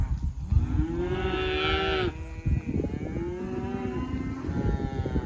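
Several cattle on a drought-season cattle drive moo and bawl loudly and close by, with long drawn-out calls overlapping one another and no talk.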